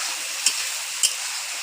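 Shrimp frying in a pan, a steady high hiss and sizzle, close and even, with two brief crackling pops rising above the constant frying.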